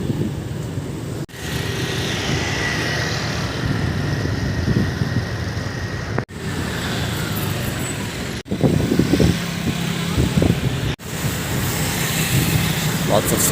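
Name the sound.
scooters passing in street traffic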